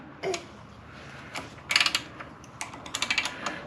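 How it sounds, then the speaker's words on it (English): Ratchet wrench tightening the clutch bolts during a transmission and clutch swap on a 2008 Smart ForTwo, heard as a few short bursts of close, crisp clicking separated by pauses. "Tighten the bolt up."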